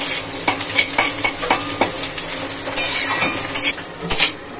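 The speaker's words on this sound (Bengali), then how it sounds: "ভালো করে ঝুড়ো ঝুড়ো করে ভাজা হয়ে গেছে ডিমটাও পেঁয়াজের সাথে।" Egg scrambled with onion fries in a pan, with loud sizzling broken by repeated scrapes and knocks of a spatula stirring against the metal, close up and without speech.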